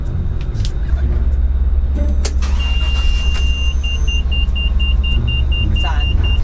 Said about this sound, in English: Tavis, start your engines.